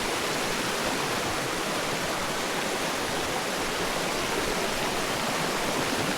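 Water rushing and splashing at the Pancuran Pitu hot spring shower in Baturaden, a dense, steady hiss of falling water filling the whole clip, close and constant with no voices.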